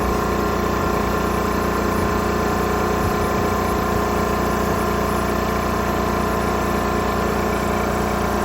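Muskwell AG320 breathing air compressor running at high pressure, a loud, constant, dense mechanical drone with a steady hum and no breaks, close to the listener and unchanging throughout.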